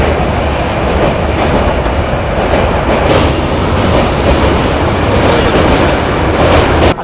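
The Uttarbanga Express (13147) pulls out of Bardhaman station with a loud, continuous rumble of rolling wagons and wheels. Rhythmic clickety-clack is heard from inside the carriage.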